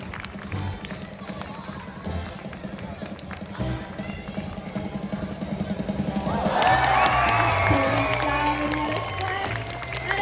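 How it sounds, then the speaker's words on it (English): Audience at a Long Island Aquarium sea lion show cheers and applauds, the crowd noise swelling loudly in the second half after a stretch of quieter background with a voice over it. "So I think she needs a nice and loud applause out there."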